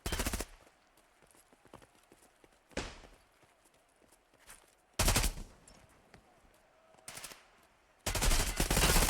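Loud bursts of gunfire from a competitive Hunt: Showdown match in a two-versus-two alley fight, arriving in separated volleys with quieter scattered shots and clatter in between, the last burst sustained.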